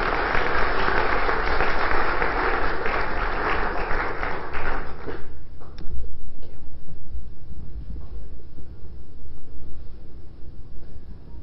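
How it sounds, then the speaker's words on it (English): Loud audience applause at a 2016 innovation conference welcoming speaker Scott D. Anthony, a dense wash of clapping for about five seconds that then drops away to quieter room noise. "Let's give him a big round of applause."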